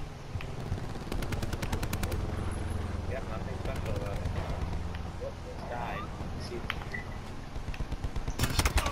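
Black Ops 4 gunfire rattles in rapid automatic bursts near the start and again at the end, with a steady battle din between and a voice talking throughout.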